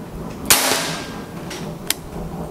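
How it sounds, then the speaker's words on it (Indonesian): A wooden full-CNC toy cap gun, the Mahameru FX, fires one sharp close crack with a short decaying tail, followed later by a smaller snap against a quiet background. "Tembakan pertama"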